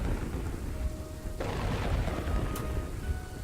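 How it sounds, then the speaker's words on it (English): Rain falls steadily in the Kingdoms and Castles building game as a thunderstorm rolls through, with a sharp crack of lightning-driven thunder breaking through the constant hiss partway in. "it's raining, there's lightning coming down"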